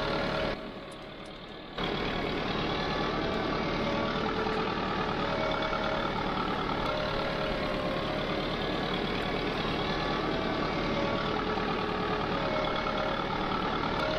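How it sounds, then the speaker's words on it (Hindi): A Sonalika 60Di tractor in Farming Simulator 22 labours uphill over hilly ground with a continuous droning engine. The drone dips briefly near the start and then holds steady and loud, with no talk. "ट्रैक्टर अपना जोर नहीं लगा रहा पूरा।"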